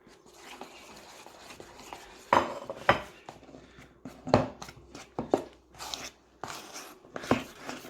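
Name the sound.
stirring pizza dough with flour in a bowl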